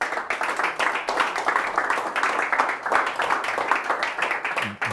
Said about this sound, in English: So give Terry Tarantino a round of applause,